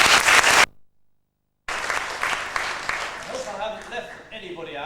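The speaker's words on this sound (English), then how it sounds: "Big round of applause." An audience applauds the cast of a school Peter Pan play: dense clapping that cuts out abruptly, then resumes and fades as voices and music begin to rise beneath it.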